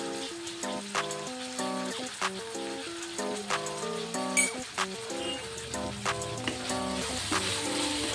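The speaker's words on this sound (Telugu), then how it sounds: "బాగా ఫ్రై చేసుకోవాలి." Tomato gravy for rice atta pasta fries in a pan, a steady close sizzle under a prominent melodic music track, no talking.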